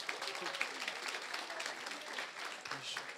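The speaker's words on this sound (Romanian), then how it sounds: "încă un rând de aplauze pentru toate proiectele care au fost prezentate" An audience applauds after a project pitch, with a quiet, distant patter of clapping hands that runs evenly throughout.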